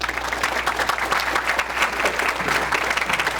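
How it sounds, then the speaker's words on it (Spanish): A lecture audience applauds steadily, a dense wash of many hands clapping at once, sustained and fairly loud throughout. "Un aplauso, por favor."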